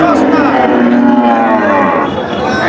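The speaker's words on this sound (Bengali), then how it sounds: "সারি সারি গরু" Cattle mooing loudly and close at a livestock market in Jhenaidah, Bangladesh, with Friesian and crossbred cattle: one long drawn-out low call with other animals lowing around it, all against a busy outdoor background.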